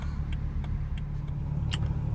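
A BMW 335xi engine idles with a steady low rumble, and faint irregular ticks and light clicks recur through it, fitting an engine troubled by misfires; no one speaks.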